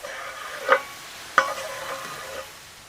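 Ingredients tipped onto a Blackstone griddle with browning beef for lazy beef enchiladas, giving two sharp clattering hits over a soft, steady sizzle.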